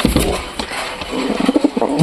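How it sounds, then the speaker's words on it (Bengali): Pigeons in a loft give low, soft cooing calls, clustered in the second half over a dense, noisy background rush. "এই দা পায়রি পায়রা।"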